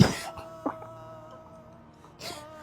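A couple of short, rough coughs separated by a quiet pause with a faint steady hum, the last one slightly breathy.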